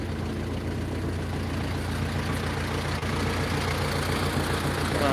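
An old tractor, built around 1944 or 1945 and idle for about half a year, runs with a steady low engine drone close by, with no talk over it.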